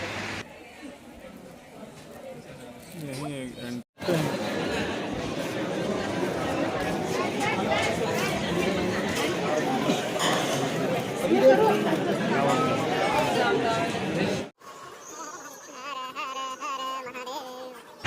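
A crowd of pilgrims chatters steadily at Trimbakeshwar temple, a dense, moderately loud babble of many voices filling the space, with a nearby speaker talking before and after.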